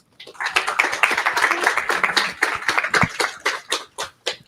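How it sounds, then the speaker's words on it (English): An audience at a science literacy workshop applauds a speaker: a short round of clapping, fairly close and uneven, building quickly and thinning out into a few last claps. "let's give Ainsley a round of applause"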